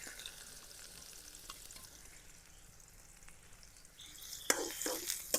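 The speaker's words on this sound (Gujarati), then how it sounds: "તેલ ગરમ થઈ જશે તો આપણે ડુંગળી નાખી દઈશું." Onion hits hot oil for a Gujarati baingan bharta. A quiet background hiss turns into a sudden louder burst of sizzling and crackle near the end, up close, with no voices.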